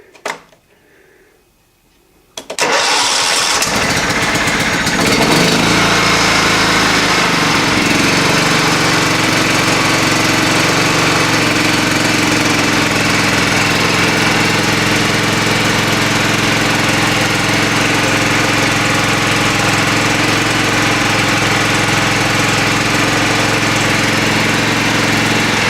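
A John Deere LT150 lawn tractor engine is cranked with the choke on, a brief quiet stretch giving way to the small engine catching and roaring into a loud, steady, close running drone that holds for over twenty seconds.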